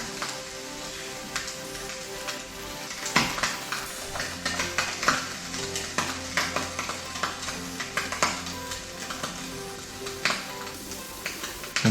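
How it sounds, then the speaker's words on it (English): A fish pizza on a tortilla wrap sizzles steadily in a frying pan, a close and fairly quiet crackle with small clinks from the pan and no talking. "That's sizzling all the way."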